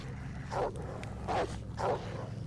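Dog barking in the video game DayZ: three evenly spaced barks or yips, moderately distant, over a low steady background hum.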